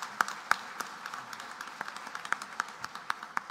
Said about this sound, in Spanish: un aplauso gigante para él.